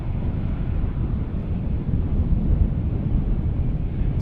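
A Boeing 787-8 Dreamliner arrives on runway 18R at Amsterdam Schiphol, heard from a distance as a steady, low, broad roar mixed with wind buffeting, with no speech.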